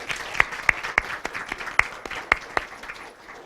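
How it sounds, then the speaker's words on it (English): Sparse applause at a school district spelling bee, a handful of distinct, sharp claps spaced unevenly over a quiet room, fading out toward the end. "Let's have a round of applause for round 4."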